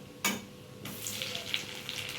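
Chopped tomato drops into a hot frying pan while cooking loti prawns, a sudden loud splash-hiss followed by a steady close sizzle with small crackling pops.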